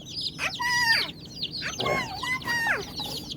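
Hens cluck and chicks peep in high, rising chirps while a child tries to catch the chicks, with a few close bursts of calls and some rustling between them.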